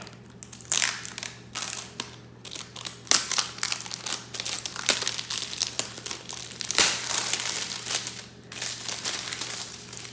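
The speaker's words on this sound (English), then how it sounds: "start using this knife here to take off the packaging" Product packaging is sliced and torn open with a knife, giving continuous close crinkling, crunching and ripping of plastic and cardboard in irregular bursts, with a steady low hum underneath.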